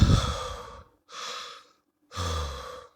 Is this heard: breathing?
yes